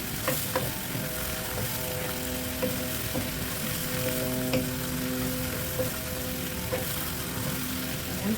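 Tofu frying in a pan gives a steady, close sizzle with sharp crackles and occasional ladle scrapes and clicks, continuous throughout with no talking.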